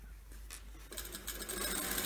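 A sewing machine topstitches a cotton fabric face mask, starting after a brief pause and then running as a steady, close mechanical whir for the rest of the moment.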